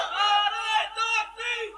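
A large gathering at a Bangla religious sermon gathering in Sylhet shouting the takbir Allahu Akbar in unison, three sustained collective voiced calls rising and falling, loud and close, with no other sound around them.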